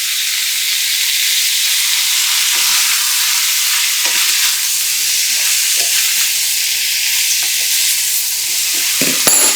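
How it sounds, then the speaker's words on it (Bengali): Pointed gourd (potol) pieces frying in oil with turmeric and salt, a steady close-up sizzle that runs throughout, with occasional soft knocks and scrapes from a stirring utensil and no talking. "আমি পটলগুলোকে এবার ভাজতে দেবো।"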